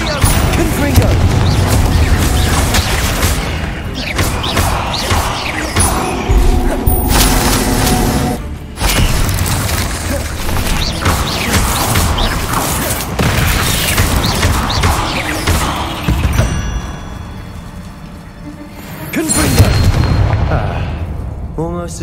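Repeated Confringo fire spell blasts in the video game Hogwarts Legacy, loud booming bursts in quick succession over a dense battle mix of music and effects, with a short pause midway and a final heavy blast near the end.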